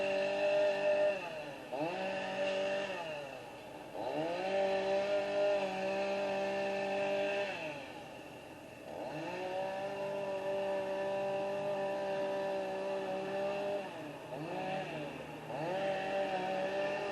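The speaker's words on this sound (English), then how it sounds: "Using the chainsaw." A chainsaw cutting down a tree at a construction site, its engine holding a high buzzing whine that repeatedly dips and climbs again as the load changes, heard at a moderate distance with no talk.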